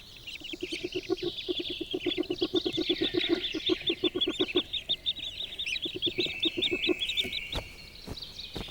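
A mother duck in a Scandinavian forest calls from a treetop nest in a rapid series of repeated quacking notes, then flies off with a rush of wingbeats near the end.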